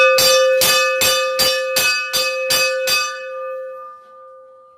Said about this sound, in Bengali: আমি ঘন্টা বাজিয়ে দেবো